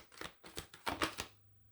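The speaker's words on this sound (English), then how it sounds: "let's give it a shuffle, see what happens" Tarot cards being shuffled by hand, several quick riffling bursts in a row at close range, fairly quiet, followed by a faint low hum.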